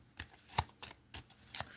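A Lenormand card deck is shuffled close up, giving a quick series of soft riffling and slapping bursts in an irregular rhythm, quiet, with no talking.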